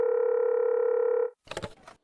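A steady electronic telephone ringback tone sounds while a call to a friend is placed, one continuous clear tone for over a second, then cut off by a short muffled rustle.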